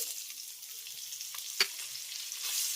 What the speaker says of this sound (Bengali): এবার পেঁয়াজটাকে আমি তেলের সঙ্গে একবার ভালো করে ভেজে নেব